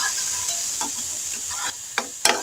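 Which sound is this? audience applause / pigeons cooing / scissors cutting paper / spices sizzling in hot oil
spices sizzling in hot oil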